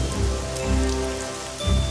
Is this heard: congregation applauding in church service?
no